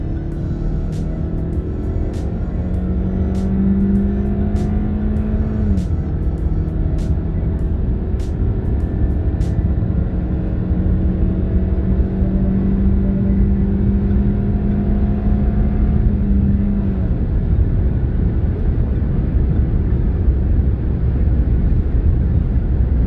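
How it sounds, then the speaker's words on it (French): Hyundai Sonata Limited pulling away at full throttle in Abidjan, a steady engine drone rising in pitch through gear changes, heard from inside the car without talk. "Vous voyez, pied au plancher, elle trace et voilà quoi, il n'y a rien à dire."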